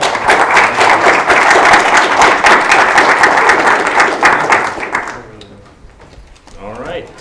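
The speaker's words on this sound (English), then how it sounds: "Quick round of applause." A workshop audience claps in a dense burst of applause for about five seconds, loud and close, then it thins out and gives way to quieter room noise and voices.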